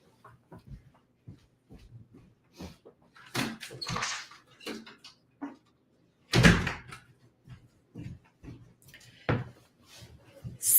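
A door is handled and opened to let a cat outside, with scattered knocks and clicks building to a sharp loud thump and rattle partway through, then lighter taps in a quiet room.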